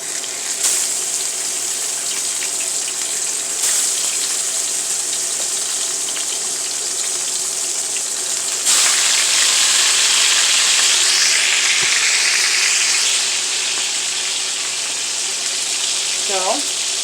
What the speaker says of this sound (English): And we're going to fry it with no flour. We're just going to put it in like so.